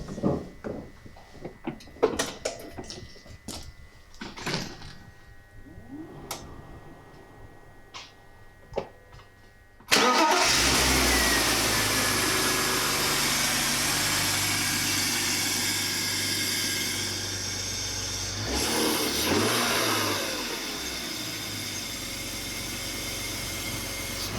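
A BMW M50 engine in an E36/E39 catches on its first start after intake manifold work and settles into a steady loud idle, preceded by clicks and clunks of work nearby.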